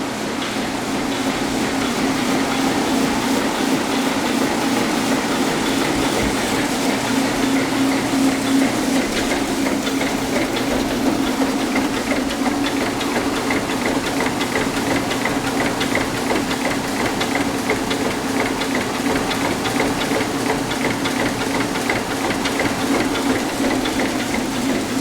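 An Oakley H5 oscillating double-sided edge sander with a 7.5 horsepower main motor runs steadily, a continuous mechanical hum with a low drone and no pauses throughout.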